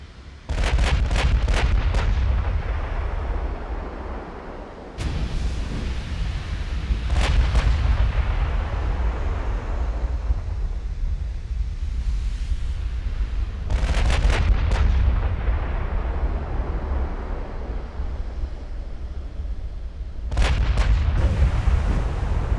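Forward naval turrets on warships in Ultimate Admiral: Dreadnoughts fire heavy cannon salvos, with loud booming volleys near the start and again around the middle and the end over a constant roaring rumble of battle.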